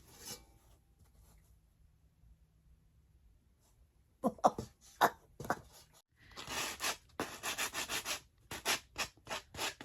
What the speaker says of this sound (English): the only places I'm sanding down to raw wood